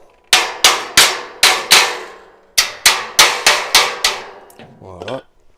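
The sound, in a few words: hammering the shower tray rail with a hammer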